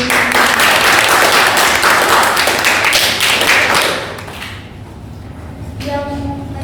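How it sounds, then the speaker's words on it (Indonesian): A classroom audience claps together loudly for a micro-teaching lesson on Islamic cultural history, dense applause that fades after about four seconds, leaving a quieter room where a voice begins to speak. "tepuk tangan dulu sekali lagi"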